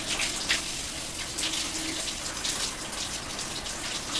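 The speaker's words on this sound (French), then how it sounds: "on met de l'eau à couler" A bathroom tap runs steadily, giving a continuous hissing gush of water that splashes into the basin at close range, with no talking.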